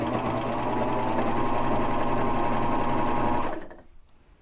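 A serger finishes a t-shirt armhole with a knit band, its motor running in a loud, steady, fast whir with rhythmic stitching chatter for several seconds before winding down and stopping.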